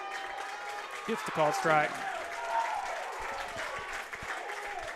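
A baseball crowd at Wildcat Park cheers and applauds through a high school senior night game, a steady wash of clapping and voices beneath an announcer talking over it, swelling briefly after a called strike.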